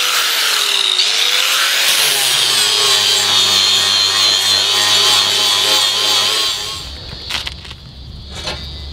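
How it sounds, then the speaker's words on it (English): An angle grinder grinds paint off a patch of a steel trawler hull, a loud close continuous whine with shifting pitch for about seven seconds before cutting out, followed by faint knocks and scrapes. "Going to start by just grinding the paint off the patch."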